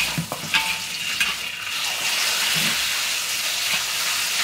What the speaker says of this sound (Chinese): 猪肉放下去爆香啊！